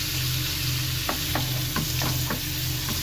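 A spatula stirs prawns and ridge gourd frying in a pan, a few distinct scraping strokes cutting through a constant close sizzle.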